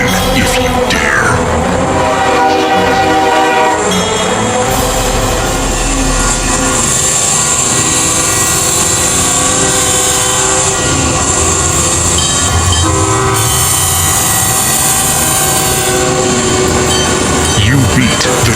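A train rolls past with a sounding horn and wheel clatter in a 1985 Tyco Train Catalog advertisement, loud and continuous with rhythmic clickety-clack and tonal horn blasts, voices mixed in.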